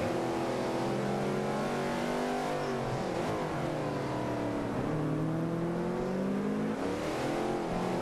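Vintage race car engine in Forza Motorsport 5, a loud continuous drone that dips and climbs as the driver lifts and accelerates again through corners, close and uninterrupted, with no speech.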